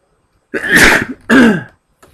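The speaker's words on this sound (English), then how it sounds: "About to sneeze." A single loud sneeze bursts out in two quick parts, a sharp inhale then the explosive release, close by in quiet.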